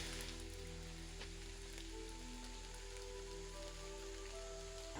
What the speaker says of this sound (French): Il pleut, il pleut, il pleut.